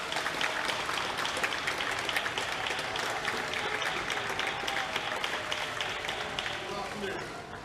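Loud, sustained applause from supporters gathered at one end of Downing Street, London, for the arriving new Prime Minister, a thick continuous wall of outdoor clapping that eases slightly toward the end.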